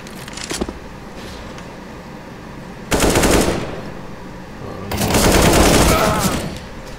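Rapid gunfire bursts in the shooter game Counter-Strike: Global Offensive, loud clustered volleys in two main bursts over quieter game ambience, with players talking briefly.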